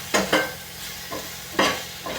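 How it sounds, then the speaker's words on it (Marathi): Eggplant with chili powder, salt and turmeric is stirred in a pan: four or five quick, close scraping strokes in uneven bursts over a low sizzle, with no talking. "तिखट, हळद, मीठ आता एक मिक्स करून घ्यायचं"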